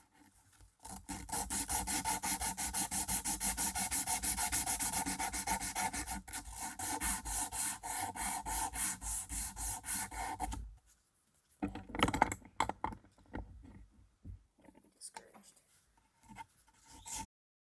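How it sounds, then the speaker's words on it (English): Hand sanding of a wooden rainbow trout carving clamped in a vise, with steady rhythmic scratchy strokes for several seconds, then a pause and a few softer, sparser rubbing passes. "I got that pretty sanded down"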